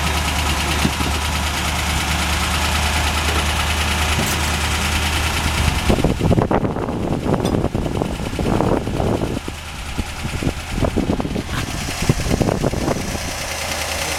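Ford Thunderbird engine idling with a slight knock, a steady low rumble with rhythmic ticking, then louder irregular clatter and revving bursts midway through, recorded close to the engine bay.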